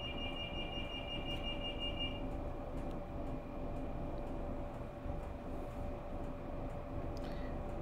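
Inside a moving train carriage on a day trip to London, a steady low rumble and rolling rattle hold throughout, with a faint electronic beeping early on and a few small clicks.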